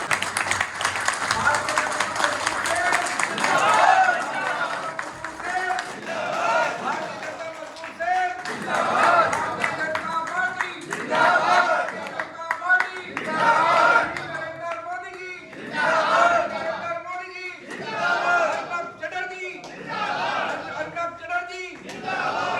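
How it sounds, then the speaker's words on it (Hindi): Crowd at a political gathering in Ghaziabad bursting into repeated rounds of loud clapping and cheering, rising and falling in waves, with raised voices and shouts mixed in. "उनके लिए जोरदार ताली हो जाए"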